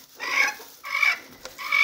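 A broody Chabo bantam hen clucks in three close, loud bursts separated by short pauses, with no talking.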